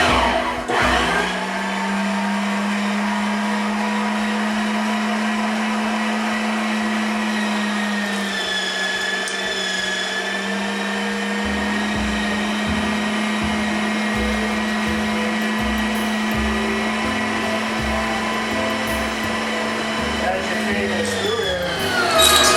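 An electric meat grinder runs steadily while grinding venison, a loud continuous motor whine close by that holds for the full stretch with slight shifts in pitch, with a person talking over it.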